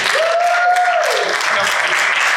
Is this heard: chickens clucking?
no